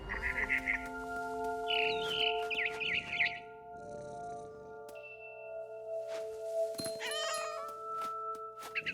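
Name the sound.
cat in video game What Remains of Edith Finch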